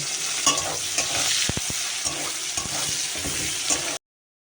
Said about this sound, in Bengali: পেঁয়াজ আর লঙ্কা আমি চিরে রেখেছি এটা দিয়ে দেবো তেলে